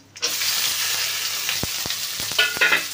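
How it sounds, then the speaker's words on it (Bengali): Onions hit hot oil in a wok already seasoned with cumin, dried red chilli and bay leaf, bursting into a loud, steady sizzle, with a few sharp clacks of stirring near the end. "এবার আমি পেঁয়াজ দিয়ে দেব।"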